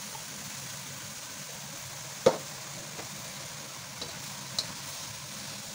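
Cabbage, carrots and mushrooms fry in a pan with a quiet, continuous sizzle, broken by a few sharp clinks and scrapes as they are stirred.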